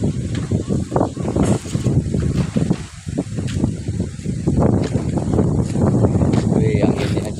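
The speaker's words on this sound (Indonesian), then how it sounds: "anginnya coy, angin bersepoi-sepoi" Strong wind gusting outdoors near a garden, buffeting the microphone in loud, rough rushes that swell and ease continuously, with no clear talk.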